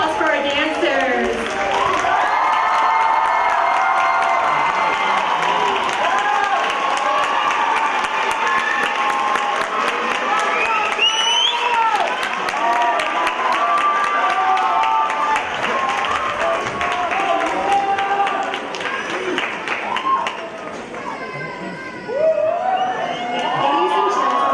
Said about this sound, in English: And may we have one more round of applause for our dancers.